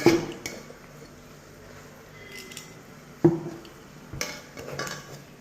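Beef masala being mixed in a pot with a spoon, a few sharp metallic clinks and scrapes against the pot with quieter stirring between, close and without speech.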